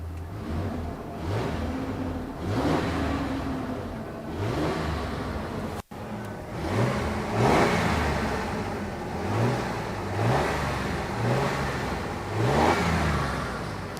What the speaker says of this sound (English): we're going to give this thing a first start right now